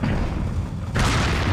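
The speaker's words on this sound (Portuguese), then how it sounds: "O cara vai tacar quantas explosão?" A heavy explosion in the video game Resident Evil 4, a dense, loud, continuous boom with a sharp surge of noise near the end of the short burst.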